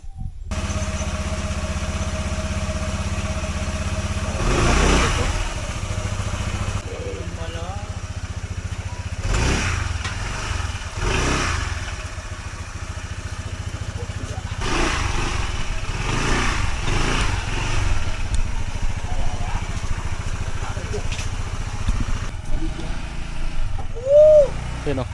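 A motorcycle engine idles steadily outdoors with a low, even hum, broken by several short, louder revs spaced through the clip and a final burst near the end, while people talk and call out nearby.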